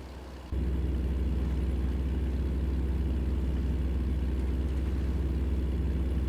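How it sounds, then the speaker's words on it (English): Steady low truck engine drone from a driving video game set in Montana, heard from a third-person view, starting abruptly after a brief quieter moment and holding a constant idle-like rumble with no talk. "Kind of wish the sound of the engine would be a little bit louder when you're in third person like this."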